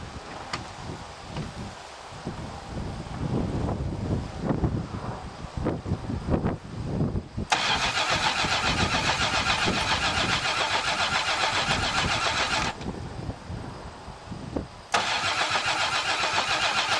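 Blown van engine, run without coolant, cranks over and fires on a test start, a steady loud running roar broken by brief dips, with wind buffeting the microphone.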